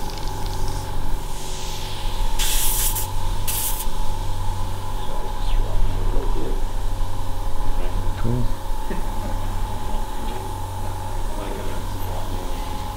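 An airbrush lays down intercoat clear during an airbrushing workshop, giving a soft continuous hiss with a few brief louder spurts over a steady background hum, and people talk now and then.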